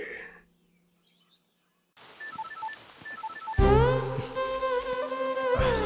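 A mobile phone rings in a Telugu romance-comedy film scene, first with a quiet pattern of repeating electronic beeps after a brief silence, then a sudden loud, bright melodic ringtone that keeps going.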